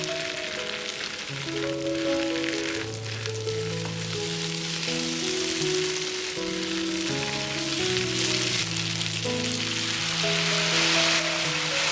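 Rice paper is stir-fried with sauce in a hot pan, giving a continuous crackling sizzle that stays steady throughout, with background music playing underneath.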